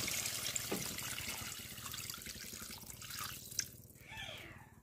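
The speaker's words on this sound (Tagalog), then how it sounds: "Lalagyan ko na po ng tubig." Water splashes and trickles faintly into a cooking pot of pork, with small drips and a brief pouring gurgle, quiet and close.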